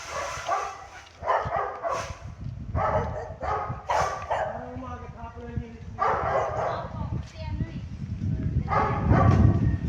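A dog barks and yips in short bursts, mixed with people talking nearby and some background clatter.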